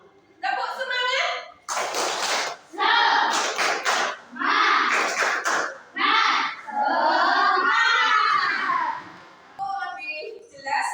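Schoolchildren in a classroom performing a rhythmic spirit clap, sharp bursts of clapping in patterned groups alternating with children chanting together in unison, close and loud.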